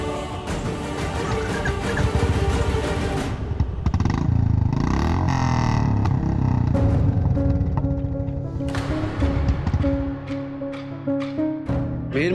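A motorcycle engine runs and revs steadily while riding through a busy market street, with clattering and background noise around it, loud and close throughout.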